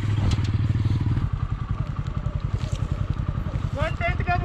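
A TVS Apache 160 4V motorcycle riding through wintry Spiti Valley near Kaza, its engine throbbing in a steady close pulse throughout, with a voice talking briefly over it.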